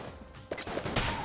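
Rapid bursts of gunfire from the video game Enter the Gungeon, several sharp shots cracking in quick succession over a busy game soundscape, without speech.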